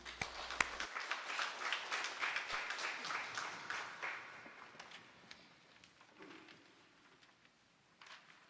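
A church congregation applauds a choir about to sing at a Sunday service, the clapping soft and patter-like, rising briefly and then thinning out and fading over several seconds to near quiet.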